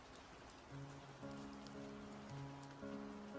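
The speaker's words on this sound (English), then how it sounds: "One evening, caught in the rain," Steady rain falls on an evening outside a looming Victorian house, a dense even hiss that continues for the whole stretch, with soft sustained musical tones layered beneath it.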